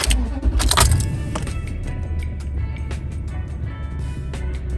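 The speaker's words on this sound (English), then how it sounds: "Let's crank the key over to see that does the trick." A 2007 Toyota Tundra's engine turns over with the key and settles into a steady low rumble, with a brief louder burst at the start and faint clicks or rattles above the drone.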